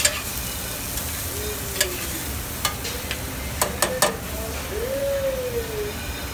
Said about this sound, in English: We're gonna saute this until the vegetables are sweated and softened.